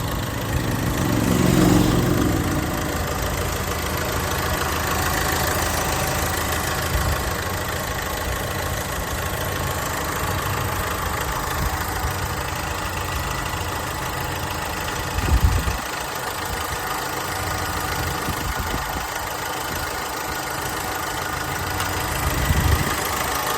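An Opel Zafira Tourer 1.6 CDTI diesel engine runs at a steady idle for a long stretch, a constant mid-low drone with a few brief louder thumps and no voices.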